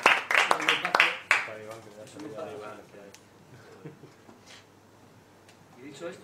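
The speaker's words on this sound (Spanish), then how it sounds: "un aplauso grande" Concert crowd gives a loud, close burst of clapping and cheering that dies away within a couple of seconds, followed by people talking.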